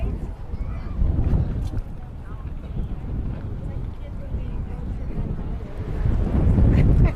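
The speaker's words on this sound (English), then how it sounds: "And the wind really blowing now." Wind gusts across an outdoor baseball field, making a low rushing buffet against the microphone that swells toward the end. A person talks over it.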